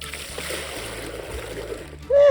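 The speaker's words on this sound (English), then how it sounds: "Here's just one more extra slosh." Water sloshes and splashes into a farm animals' water trough on a morning chore round, with a continuous watery wash that ends in a sudden louder surge.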